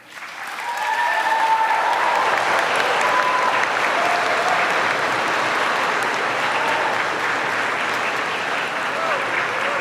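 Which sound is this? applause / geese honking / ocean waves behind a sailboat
applause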